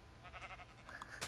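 Sheep in a farming video game bleat a few times in quick succession, fairly close and moderately loud, with light background game ambience and no talking.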